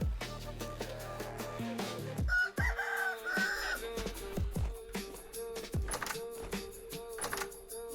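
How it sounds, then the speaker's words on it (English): A rooster crows in the Vintage Story game world over busy game music, with clicking sounds scattered throughout and no talk. "Rooster."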